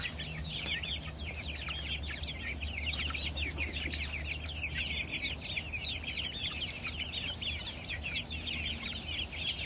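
Chickens out foraging, scratching and pecking, give a continuous flurry of small, rapid clucking calls at moderate distance over a steady background hiss, with no talking.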